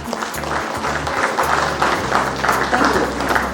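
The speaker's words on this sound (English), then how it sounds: "Can we have a louder round of applause," At the 19th Annual Chef Awards held by the Indian Culinary Forum, a hall crowd claps in a dense, sustained round of applause, loud and continuous, with a low thumping hum underneath.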